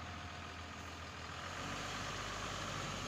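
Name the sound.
Tata 2518 drum truck engine running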